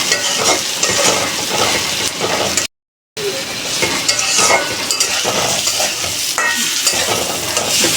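Rice and potato stir-fried in spice paste for a fish-head muri ghonto, giving a loud, continuous sizzle with busy stirring scrapes, cut by a short silent gap.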